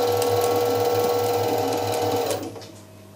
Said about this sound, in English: let me just stop the spindle